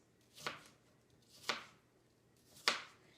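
A knife slices through apple being cut into thin pieces for dehydrating, giving three crisp, close chopping strikes spaced about a second apart, with quiet pauses between them.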